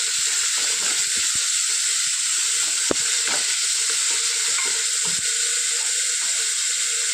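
Tomato rasam with salt is stirred in a pan over a bright, constant sizzle, with scattered clicks and utensil knocks and one sharper clack partway through, with no talking.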